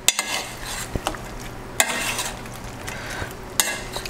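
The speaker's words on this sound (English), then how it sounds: "I'm now gonna add in the shrimp. All right, so shrimp in. There we go. Just stir it around." Shrimp stirred in a garlic butter pan, a spoon scraping and clacking in a few sharp strokes over a continuous close sizzle.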